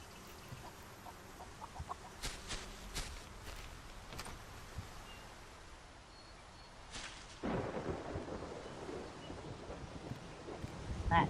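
A big thunderstorm in the video game Solarpunk, with low rumbling thunder that swells and breaks into a louder, closer roll near the end, mixed with scattered clucking from in-game chickens.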